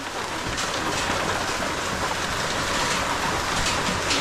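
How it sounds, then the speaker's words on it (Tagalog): Heavy rain with big drops pounding steadily over a house in Bucana, a dense continuous roar close by and with no talk. "Lalaki ng patak ng ulan oh."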